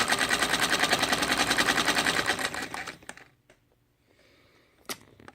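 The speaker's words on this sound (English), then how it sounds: "You just press on the gas and it goes." A White Rotary sewing machine runs fast and steady with a close rhythmic mechanical clatter while stitching, then stops, followed by a few faint clicks and handling noises.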